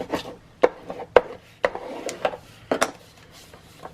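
Tape being burnished onto a paper mini album cover with a hard rubbing tool, heard as a series of short, close, dry scraping strokes in an uneven rhythm with quiet gaps between them and no talk.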